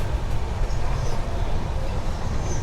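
Passenger train travelling on the rails on a long overnight journey to Goa, a steady, continuous rumble and rattle from inside the carriage with no talking.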